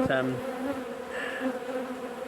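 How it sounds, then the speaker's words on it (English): Honeybees drone loudly and close at a hive being robbed, fitted with an entrance reducer, forming a dense continuous buzz with a few individual insects passing nearby. "Now I'm a bit concerned about new hive. I think this is a robbing situation going on."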